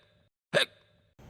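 A single sharp human hiccup, close and fairly loud, with quiet room tone before and after.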